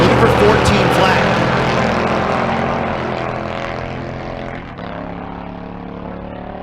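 A Mustang drag race car launches down the strip at Bandimere, a loud, dense engine roar that holds steady and slowly fades over several seconds as the car pulls away.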